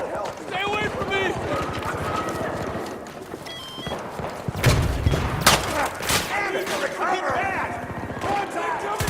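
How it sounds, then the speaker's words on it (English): Gunfire crackles through a Battlefield 2042 firefight, with sharp bursts and heavier booming impacts mixed into a busy battle soundscape while soldiers shout over the action throughout. "Fire! They're shooting!"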